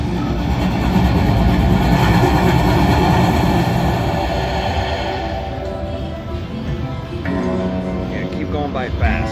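A video game train rushes past fast with a steady rumbling, rattling roar that fills the scene, then thins slightly toward the end as game chimes come through; a person talks over it.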